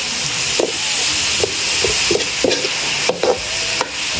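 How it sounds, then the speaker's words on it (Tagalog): A simmering dish being stirred in a pan, a constant bubbling hiss with repeated utensil scrapes and taps against the pan at an irregular rhythm, close and loud, no voices. "And then halo natin para manuot ang lasa po."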